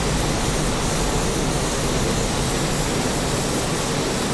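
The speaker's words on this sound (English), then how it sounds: "Reduce throttle to let the aircraft touch down." An A-29B turboprop in a flight simulator coming in to land, with a steady loud engine roar and broadband rush that holds constant and dense throughout, no voices.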